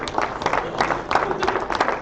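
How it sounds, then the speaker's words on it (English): Applause from the audience at a Michigan Auctioneers Association Hall of Fame induction, a dense, steady patter of many hands clapping that fills the room throughout. "Give a big round of applause."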